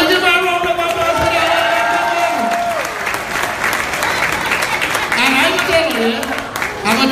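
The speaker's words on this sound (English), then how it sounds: "give a round of applause" Audience applause at a Caribbean comedy show, a dense wash of clapping and crowd noise running throughout while a comedian keeps talking over it.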